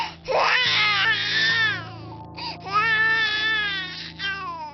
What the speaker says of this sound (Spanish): a la medianoche, escuchó el llanto de un bebé